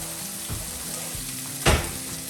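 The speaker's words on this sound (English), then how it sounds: "let's get the bison in. Ah yeah, you hear that sizzle?" Ground bison sizzles steadily in a hot pan, a constant crackling fry with a few louder pops and a scrape of stirring.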